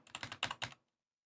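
Rapid bursts of keystrokes on a computer keyboard, about seven close, crisp clicks over under a second, then silence.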